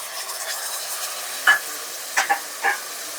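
A pan of mixed vegetable pachadi being stirred, with a soft sizzling background broken by a few sharp scraping clicks of a spoon against the pan.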